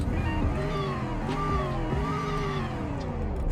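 Engine of a 2009 Piranha Bromwich in the Roblox game Greenville runs steadily, its harmonic hum rising and falling in pitch as if revved gently, close and continuous with no other sounds.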